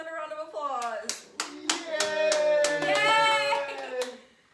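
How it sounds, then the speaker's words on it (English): A few people clap for Jasmine, sharp individual hand claps spaced irregularly over cheerful speech and a voice, close and fairly loud. "Everybody give Jasmine a round of applause."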